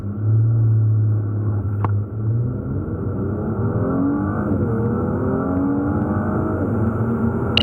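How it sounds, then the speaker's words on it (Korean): A Mercedes-Benz C450 AMG 4MATIC accelerates hard, its engine note loud and close, rising steadily through the gears with brief dips at the shifts and no talk over it. "이와 같은 파워트레인을 기반으로 한 가속 성능에 대해서도 한번 알아보겠습니다"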